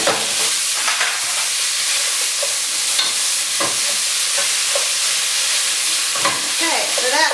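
Organic beef browns in a hot pan for a bolognese, hissing with a loud, even sizzle while a utensil scrapes and stirs it in short, irregular strokes up close.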